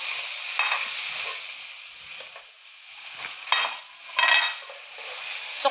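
Fresh tomatoes go into a pan where pork liempo is cooking, giving a soft sizzle with scraping stirs and light utensil clinks that come in several short bursts.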